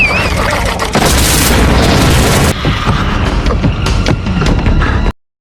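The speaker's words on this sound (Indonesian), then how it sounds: "makhluk itu langsung meledak begitu kena udara" A creature bursts in an explosion sound effect: a loud, dense roaring blast that rumbles on for several seconds before cutting off abruptly into silence.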